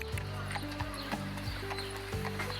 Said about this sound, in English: Meet Olaf, our horse, and Pedro, our carriage driver